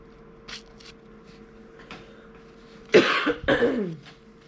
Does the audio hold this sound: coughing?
yes